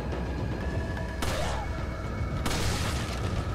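In Resident Evil 4, two sharp gunshots ring out about a second apart over a low, rumbling background, each with a short, bright crack and a quick decay.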